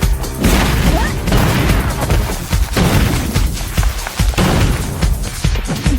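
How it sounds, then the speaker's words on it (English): Gunfire and impacts in a RWBY animated fight between Qrow and Winter, loud dense bursts of shots, crashes and booms overlapping continuously in a busy, close action mix. "Winter then proceeds to run straight up a wall while evading gunfire"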